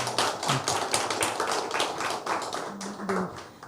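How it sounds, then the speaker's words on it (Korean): A studio audience gives warm applause for two guests: dense, steady clapping from many hands, moderately loud and sustained throughout, tapering slightly toward the end. "우리 두 분께 뜨거운 박수 한번 좀 보내주시죠"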